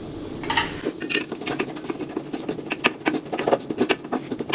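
Spoon scraping and clinking against a pan as spice powders, including fennel powder, roast on a low flame for cauliflower curry, with quick irregular metallic taps close by.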